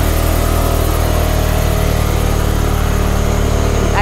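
A small scooter engine drones steadily at a constant loud level while the little bike rides into the jungle at night, with no talk over it.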